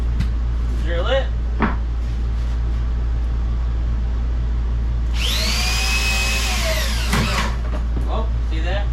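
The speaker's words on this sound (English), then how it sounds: "drill it" A power drill whines briefly during a dinette build, a rising and falling high-pitched spin lasting a couple of seconds, with scattered workshop clicks and a steady low hum around it.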